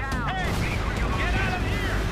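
Gunfire striking a Sherman tank during a Company of Heroes battle, heavy thuds and rattling impacts over a constant rumble, with ricochet-like whines and a voice talking through it.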